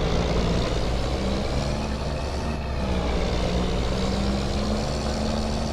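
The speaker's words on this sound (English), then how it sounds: "Listen to the sound of that motor down." A heavy truck engine in Farming Simulator 25 rumbles steadily with a deep, continuous drone, loud and close throughout.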